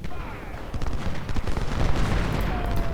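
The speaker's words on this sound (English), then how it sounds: "I want our howitzers to focus their fire on Perrin" Artillery in Ultimate General: Civil War, with howitzers firing in repeated booming and crackling volleys under a continuous battle rumble, fairly loud and sustained.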